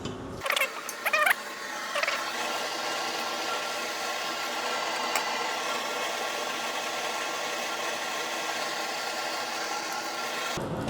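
A lab stirrer blade spinning at 400 RPM in a fungal chitin mixture gives a steady mechanical whir and hum that runs unchanged for several seconds after a few clicks and knocks at the start.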